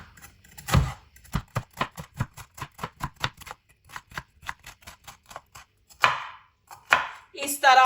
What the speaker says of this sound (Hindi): अब इनकी करेंगे हम कटिंग। इस तरह पकड़ लेंगे, जल्दी कटिंग होती है।